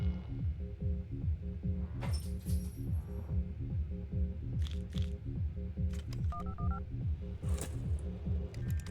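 Burner phone item used in a gambling video game, giving short electronic beeps and dial-tone blips over a steady looping game music bed with a pulsing rhythm; several brief bright chirps are scattered through.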